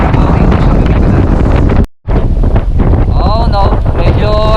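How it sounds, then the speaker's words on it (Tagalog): Strong wind buffets the microphone on a ship's deck at sea, a loud, continuous roar broken by one brief dropout, with faint tonal whines and a voice speaking partway through. "My friend, too much strong wind."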